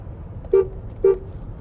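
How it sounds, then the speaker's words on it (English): A car horn honks twice in quick succession in Denver, Colorado, two short toots about half a second apart over low background rumble. "we're gonna honk"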